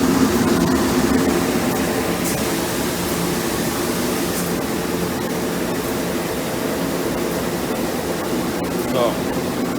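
A DM1100C grain finishing machine running on stainless steel and aluminum, giving a steady, broad mechanical roar and whir that stays even throughout with a few faint clicks, with someone talking over it.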